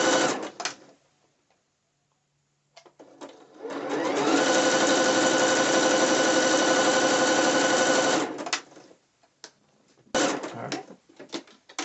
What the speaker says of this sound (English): I just put the extra stitch to make sure it's catched